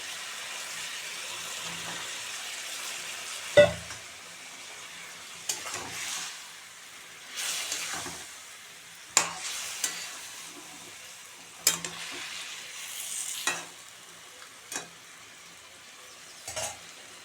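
Potatoes fry in a pan for muri ghonto, a quiet background sizzle punctuated by a series of spaced-out scrapes and knocks as the pieces are stirred and turned.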